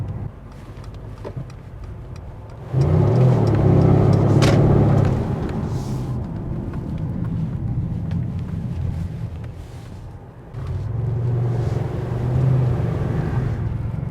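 A 2017 Mercedes-AMG C63 with a new exhaust drives in Sport Plus, its engine swelling to a loud, steady roar, easing off, then rising again in a second surge.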